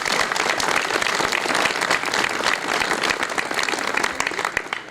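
An audience at a school inauguration applauds warmly, a dense, continuous round of clapping from a moderate distance that holds steady and eases slightly at the end.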